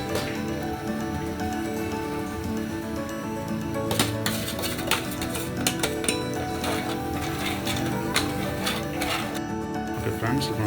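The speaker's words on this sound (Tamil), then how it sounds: "ஃப்ரெண்ட்ஸ், இந்த ஸ்டேஜில் நாங்கள் இப்போ ரவை ஆட் பண்ணிக்கிறோம்." Semolina for pineapple kesari is poured into a pan and stirred, giving a steady grainy rustle with scraping and small clicks over several seconds, close and fairly loud throughout.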